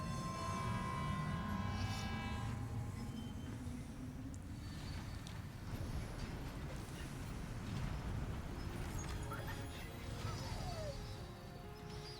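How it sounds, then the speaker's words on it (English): A monorail train in the video game Death Stranding 2 rumbles steadily along, a continuous low rolling drone with a faint tonal hum and occasional metallic squeals, heard close and unbroken. "I love this monorail system, man."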